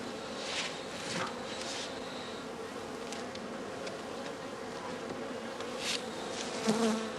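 Honeybees buzz around a straw skep hive in a constant soft drone, with individual insects whining closer and louder as they pass, the hum continuing alone without voices.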